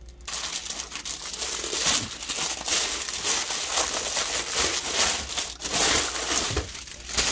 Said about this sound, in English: you just saw me unwrap it